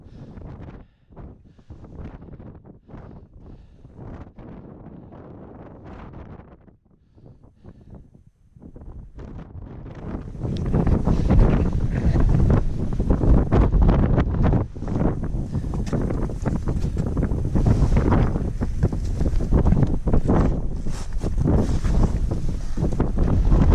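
Wind gusts across a snowy Ben Lomond mountain walk, quieter buffeting at first, then a loud, steady roar battering the microphone for the rest of the stretch, with no talk.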